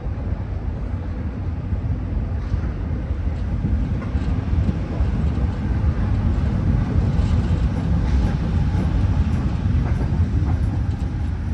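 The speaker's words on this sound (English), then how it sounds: "Let's see, this could be a Brown Line train." A CTA Brown Line train rumbles over the Belmont flyover in Chicago, a steady, fairly loud rolling roar of wheels on elevated track sustained throughout without any talk.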